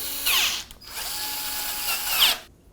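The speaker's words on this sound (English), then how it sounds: "And then I'll tighten these two other bolts, one on each side." Power tool tightening bolts on an ebike headset, TST R002 moped-style ebike, heard as a steady close whirring drive lasting about two seconds with brief ratcheting bursts at start and end, no talk.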